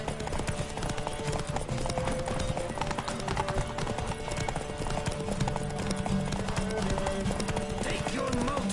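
A horse gallops in The Witcher 3 game, a fast steady clip-clop of hooves running continuously under game music and a voice urging the mount on.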